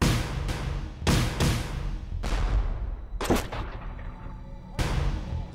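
Cannon firing grapeshot in a Revolutionary War battle reenactment, with several sharp, loud booms and volleys spaced about a second apart, each trailing into rumbling decay.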